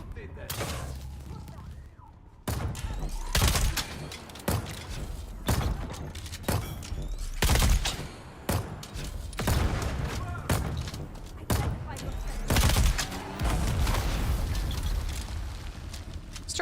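Turret gunfire in the video game Dune keeps up a dense, continuous barrage of booming shots and thuds, loud and close, with a voice talking over the firing.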